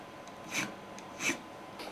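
A file rasping along the frets of an 80s Charvel Charvette guitar, two distinct close strokes about a second apart with fainter scrapes around them, quiet and without talk.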